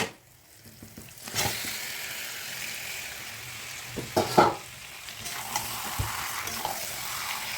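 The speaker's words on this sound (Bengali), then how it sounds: "এবার আমি এর মধ্যে ম্যারিনেট করা চিকেনটি দিয়ে দেবো।" Marinated chicken drops into a pan of fried-down masala glistening with released oil, setting off a steady close sizzle with stirring scrapes and a few louder clanks, and no one speaking.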